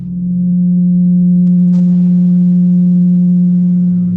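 A pure 180 Hz tone, representing the 180 degrees of a triangle, hums steadily and loudly without a break, a single constant pitch with faint overtones.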